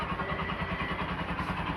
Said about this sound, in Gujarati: મહેશભાઈએ બાઇક ચાલુ કર્યું હતું અને આપણે ફરીવાર ચાલુ કરવાનું છે